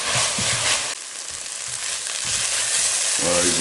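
Onions sizzling steadily over medium heat in a pan for chicken yassa, a continuous close frying hiss with occasional stirring scrapes, no talking.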